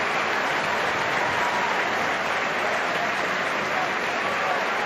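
A rugby stadium crowd at an Exeter v Saracens Premiership match applauds a player, a dense, even roar of clapping that holds steady and loud throughout, with a commentator's voice partly under it.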